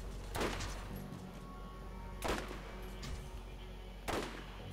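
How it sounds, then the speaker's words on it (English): Three sharp, booming sniper rifle shots from the Borderlands video game ring out at evenly spaced intervals, each with a short echoing tail, over a steady low background hum. "I'm gonna snipe him out here."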